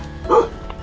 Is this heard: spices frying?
no